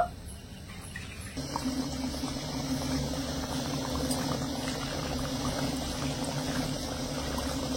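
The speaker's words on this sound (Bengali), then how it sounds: "তো এবার আমি গরম তেলের মধ্যে জিলিপিগুলো ছেড়ে দেব।" Semolina jalebi batter drops into hot oil and fries with a steady, even bubbling and gurgling hiss that starts after a quiet moment and runs on without a break.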